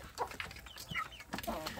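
Free-range village chicks in a rearing pen, with several short, close clucks and chirps in quick irregular succession, no talk.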